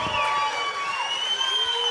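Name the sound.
audience cheering and applauding for a magician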